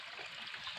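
Creek water flows in a steady, close, broadband rush with no voices over it.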